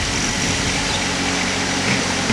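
A tractor engine runs steadily at close range during potato digging, giving a continuous low rumble with no breaks or voices.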